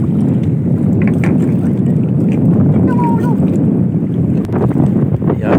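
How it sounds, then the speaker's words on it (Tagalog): Strong wind at sea buffets a small fishing boat near midday, a steady loud roar of gusts and rushing air across the microphone, continuous throughout with no speech heard. "At ngayon ay 12:27 ng tanghali. At medyo malakas yung hangin mga idol."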